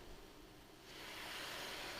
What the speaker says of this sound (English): so now we put the water in